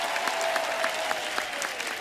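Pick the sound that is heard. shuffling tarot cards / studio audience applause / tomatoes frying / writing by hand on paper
studio audience applause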